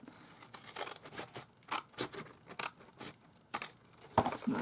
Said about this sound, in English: so I'll cut it up on the sides a bit